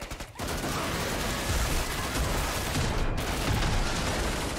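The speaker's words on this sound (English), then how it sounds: "Do those fucking robots now shoot rockets?" Robots firing rockets in the video game Killing Floor 2 make a dense, continuous barrage of gunfire and blasts that is loud and sustained, with a brief cut near the start and a sharp hit at the end.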